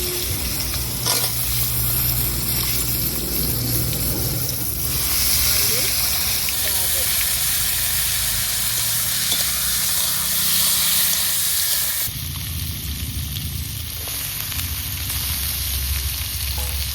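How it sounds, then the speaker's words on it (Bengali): Dried red chillies, bay leaves and panch phoron spitting in hot oil as a tempering for a home-cooked vegetable dish, a loud, steady sizzle and hiss with stirring scrapes throughout. "তো ফোড়নে দিয়ে দিচ্ছি কটা শুকনো লঙ্কা আর তেজপাতা, আর দিয়ে দেবো একটু পাঁচফোড়ন।"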